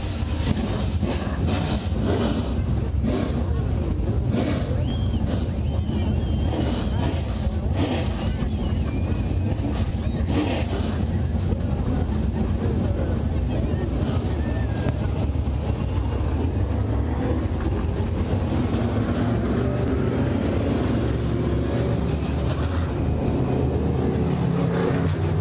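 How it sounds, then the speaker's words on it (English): Several late model race car engines at 411 Motor Speedway during a NeSmith Late Models event roar together as a loud, dense, continuous rumble that holds steady throughout, with no break or clear rise. "Driver, start your engine."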